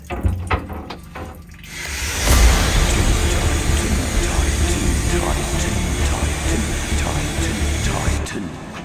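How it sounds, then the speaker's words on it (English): A Titan wet vacuum roars steadily on a leaking narrowboat after a brief start, a loud whooshing suction noise with some clattering at the beginning. "Just using my new wet vacuum there"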